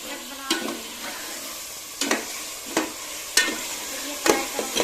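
Chicken cutlets fry in a pan and are stirred with a spoon. A steady sizzle runs underneath, and sharp scraping clinks from the spoon come every second or so, close and clear with no talk.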